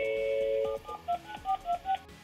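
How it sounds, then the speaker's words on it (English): A landline telephone tone cuts off, followed by a run of short, evenly spaced touch-tone dialing beeps as a number is keyed in, close and clean with no voices. "I'm going to use my good old-fashioned landline to call my Nexus 4"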